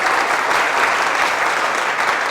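Dense, steady applause from a large comedy show studio audience, loud and continuous with no pauses.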